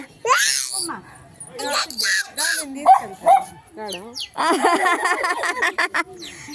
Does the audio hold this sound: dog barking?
yes